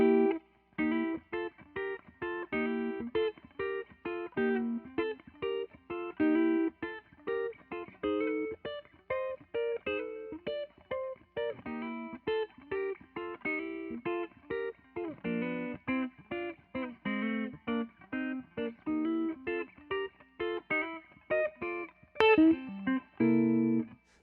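Electric guitar through effects playing a fast blues in four: quick runs of picked, distorted single notes and double stops with slight reverb, continuous and close, unaccompanied and without talk.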